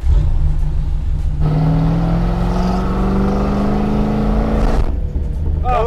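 A V8 Plymouth Barracuda with freshly topped-up oil pulls away, its loud, close engine droning steadily and rising in pitch as it accelerates, with a strong low rumble throughout.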